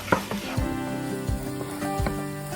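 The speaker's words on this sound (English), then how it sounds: "Transfer the garlic into the pot and stir for a minute to prevent the garlic and shallots from browning." Garlic and shallots sizzle in a pot while being stirred, a dense close crackling with several dull knocks and scrapes of the spoon against the pot, and no voices heard.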